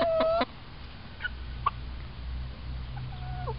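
Colored ranger meat chickens give a few short clucks and soft calls at close range, scattered over quiet background hum.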